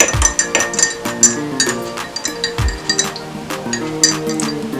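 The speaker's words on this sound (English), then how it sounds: "Keep stirring until the butter dissolves." A spoon clinks repeatedly against a glass or cup while stirring hot turmeric tea with butter and honey, giving bright, rhythmic taps at close range with no talking.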